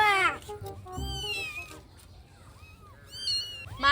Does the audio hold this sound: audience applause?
no